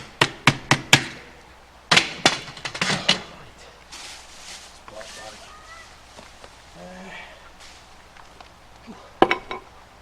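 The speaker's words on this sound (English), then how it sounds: "It's always a good idea just to hammer these nails" A hammer drives nails down into a wooden bed at a bed destruction derby in Scotland: a quick run of sharp, close knocks, another cluster a second later, then a quieter lull with one last pair of blows near the end.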